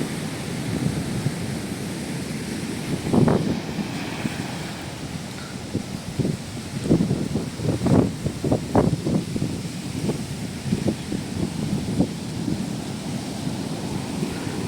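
Sea waves roll and crash repeatedly at Chembirikka as seawater surges onto the road, mixed with gusty wind noise buffeting the microphone, a continuous rough roar with irregular surges.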